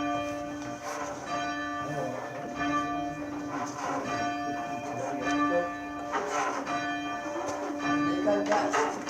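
A church bell is rung by hand with a bell rope, its rich tone sounding in repeated, evenly spaced strokes that hang and overlap, with voices talking underneath.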